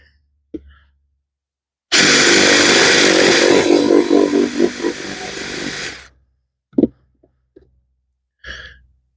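A loud drill with a spade bit whirs for about four seconds, its pitch wavering as the bit bites into wood, with a few brief knocks before and after.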